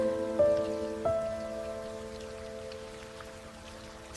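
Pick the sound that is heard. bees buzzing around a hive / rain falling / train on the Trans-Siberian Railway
rain falling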